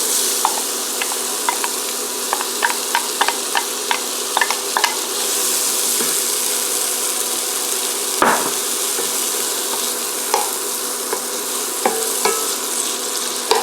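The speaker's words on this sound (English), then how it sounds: "Who doesn't like celery, carrots, and onions sauteing?" Celery, carrots and onions sauté in a pan with a steady, close sizzle, punctuated by irregular clicks and scrapes of a utensil stirring the vegetables; one louder knock near the middle.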